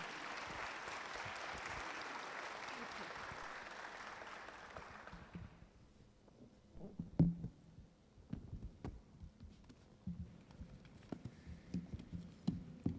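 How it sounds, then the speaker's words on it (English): Sustained applause from a conference audience fills the first half, then fades into quiet room noise with scattered knocks and shuffling. "please let us have a big round of applause for these two speakers"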